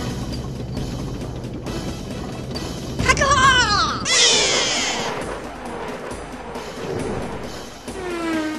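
A cartoon cat meows in an anime scene, a short wavering cry followed by a longer rising yowl over busy background music and effects, with another faint mew near the end.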